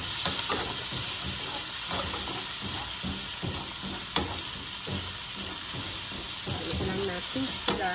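Mixed vegetables stirred and frying in a pan with a splash of white vinegar, a steady sizzle and hiss broken by repeated scraping stirs and a few sharp utensil knocks, close and continuous.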